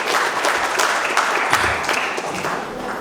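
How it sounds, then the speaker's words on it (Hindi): Audience applause at a spiritual gathering in a Melbourne Sai temple, a dense, steady burst of clapping lasting about three seconds with no talk over it. "एक बार जोरदार तालियां इसके लिए भी।"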